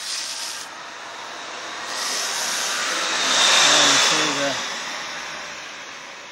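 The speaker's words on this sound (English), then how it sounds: "Yeah, compressor." An air compressor runs on a hydraulic-pneumatic demonstration vehicle, producing a steady broad hiss and whir that swells to a louder peak midway and then eases back.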